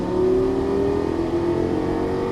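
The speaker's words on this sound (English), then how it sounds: "Brake, one downshift, and release the brake, go all the way to the bottom. There you go. Accelerate out." A Lamborghini Gallardo LP-550 accelerates out of a turn, its engine droning loud and steady with a rising tonal whine, heard close from inside the car with no talk.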